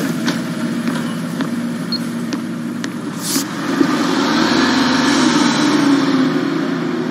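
Bus engine in a Halifax advert, a steady low rumble throughout that swells slightly partway through, with a few faint clicks early on.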